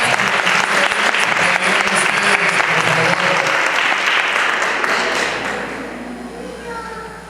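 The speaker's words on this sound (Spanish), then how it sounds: "Pero aplausos" A church congregation at a Christian mission service claps to welcome newcomers, loud and close at first, then tapering off and fading toward the end, with some voices mixed in.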